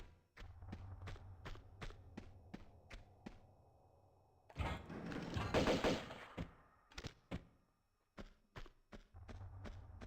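Rapid gunfire in Tomb Raider Remastered II, a game set in a creature cavern, with sharp repeated shots in bursts, a louder rumbling stretch in the middle, then more quick shots at the end.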